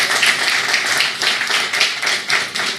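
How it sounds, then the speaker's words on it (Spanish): Congregation applause at a Sunday church service, dense sustained clapping from many hands filling the room at an even, lively level throughout. "¿Cuántos le dan un aplauso al Señor por eso?"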